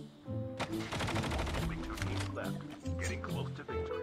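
Gunfire in the mobile shooter Call of Duty Mobile, including sniper rifle shots, with sharp cracks scattered through dense game noise and music while a voice talks over it.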